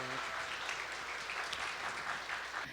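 An audience gives a sustained round of applause for an author at a literary talk event, a dense, even roar of clapping that fills the whole clip without any voices.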